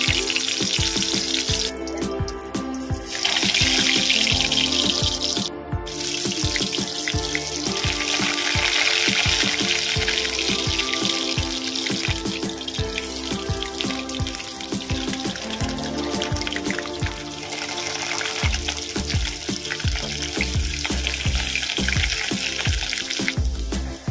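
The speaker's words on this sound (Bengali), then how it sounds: "তেলটা এখানে গরম হয়ে গেছে, আমি পুর ভরা আলুগুলো দিয়ে দেবো।" Potatoes stuffed with a lentil filling fry in hot oil in a wok, giving a loud, steady, close hiss that runs unbroken with no voices over it.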